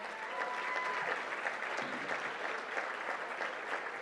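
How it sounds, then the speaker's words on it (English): Sustained applause from an indoor audience, a dense even patter of clapping that keeps going without a break. "Give yourselves a round of applause for being here tonight."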